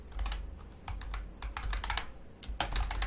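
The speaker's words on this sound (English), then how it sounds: "I'm going to type social media post" Fast, irregular tapping of keys on a computer keyboard as a search is typed, close and clear, with short pauses between bursts of keystrokes.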